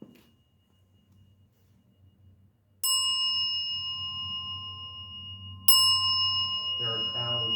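Two bell strikes in a Zen service ring out clearly a few seconds apart, each a bright sustained tone decaying over a low hum, with chanting voices rising just after the second.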